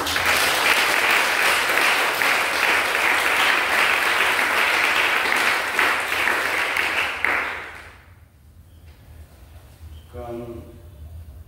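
A congregation applauds loudly and steadily at a fire adoration worship service, the clapping dense and sustained before fading out, after which a voice speaks over quieter background sound.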